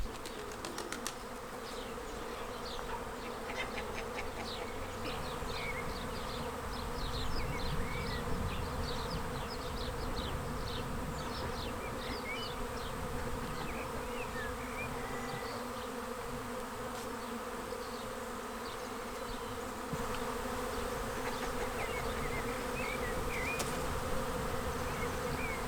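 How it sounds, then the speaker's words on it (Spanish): A swarm of bees drones steadily inside a farm's tack room, a dense continuous buzz holding for the whole stretch, with faint bird chirps in the background. "se nos había metido un enjambre aquí en el Guadarnés."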